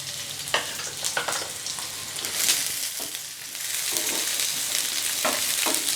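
Two large, roughly chopped onions fry in hot oil in a pan, making a dense, even sizzle with occasional spatula scrapes and clicks, loud and close.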